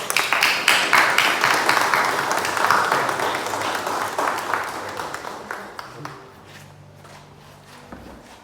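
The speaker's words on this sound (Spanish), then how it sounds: "Un aplauso para el Señor" Church congregation applauding after a testimony, a dense spell of clapping that stays loud for several seconds, then thins and fades toward the end.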